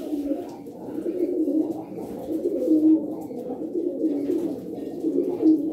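Bozkır pigeons coo softly and continuously, low rolling calls overlapping in a steady murmur, fairly close, with no talking.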